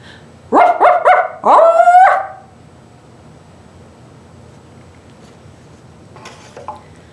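A dog barks five times in two quick bursts, loud and close, followed by several seconds of near silence with a faint stir at the end.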